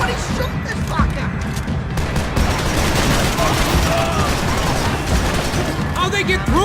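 Rapid bursts of gunfire ring out in the video game Max Payne 3, dense and continuous over a battle din, while a player's voice talks and shouts over the shooting.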